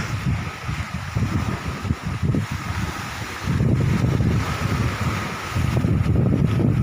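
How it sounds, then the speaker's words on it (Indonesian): Strong wind at sea in the Sunda Strait aboard a fishing boat in extreme rainy-season weather, gusting and buffeting loudly against the microphone in uneven surges. "angin."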